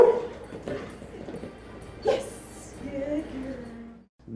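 A service dog lets out a short bark and soft whimpering yips, fairly close, alongside a speaking voice and low room noise, ending in a brief near-silence.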